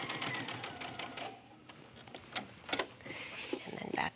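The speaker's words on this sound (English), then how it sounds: "Now you're stitching through both plackets and the garment." Sewing machine stitching through both plackets and the body of a top at a new neckline, a close, steady motor whir with stitch ticks, pausing briefly midway before resuming.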